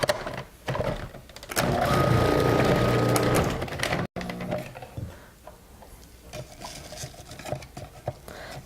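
A kitchen food processor whirs loudly for about two seconds as it chops pork, then cuts off, followed by clattering handling and light kitchen noise.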